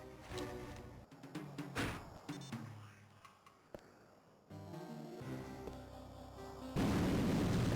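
In the Game Boy Advance game 007: Nightfire, an explosion bursts amid a quick run of game sound effects, with thumps and crackling bursts followed by a loud, sustained rumbling roar at the end, played fairly quietly with no voices.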